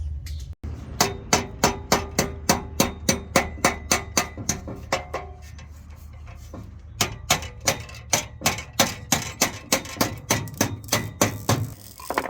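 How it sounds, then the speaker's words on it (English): Hammer tapping metal flat on a 2002 International 4300 rollback truck, a long series of sharp, ringing metallic blows at a steady rhythm, close and loud, with a short pause midway before the tapping resumes. "I want to take a hammer and tap this down."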